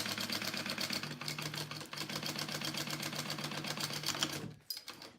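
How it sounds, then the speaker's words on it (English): A sewing machine runs a basting stitch to close a joey pouch, its rapid, even needle clatter continuing nonstop for several seconds before stopping briefly near the end and restarting. "I am going to just baste this shut as well because I don't need it to be separate"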